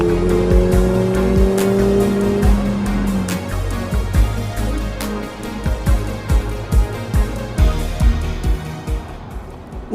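Mercedes-AMG GT in Sport Plus mode with exhaust valves open, accelerating hard; loud, close engine roar rising in pitch, then rapid gear changes and sharp exhaust crackles and pops, with no talk.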